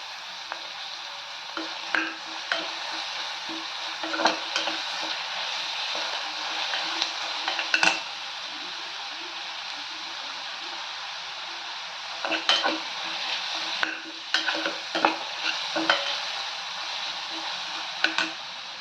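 Ginger and garlic fry in a pan for dal kurma under a steady, loud sizzle, with a spoon scraping and clinking against the pan every few seconds as they are stirred.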